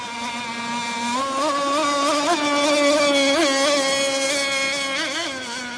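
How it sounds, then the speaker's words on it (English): A motorboat engine drones loudly and close, its pitch rising and wavering as the throttle surges and eases. "You got a rescue boat coming after you."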